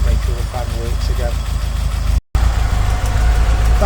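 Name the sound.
Ford Escort car engine idling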